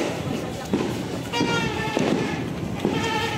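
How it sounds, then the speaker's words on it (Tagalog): Roman candle fireworks going off on New Year's Eve in the Philippines, several crackling pops and thumps spaced about half a second apart over a dense, noisy outdoor background with people talking. "Isang Roman fireworks ulit."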